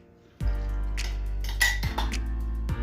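Ingredients for bulgogi sauce are mixed in a bowl, with a close utensil clinking and scraping against the dish in a few distinct strokes over a steady low kitchen hum.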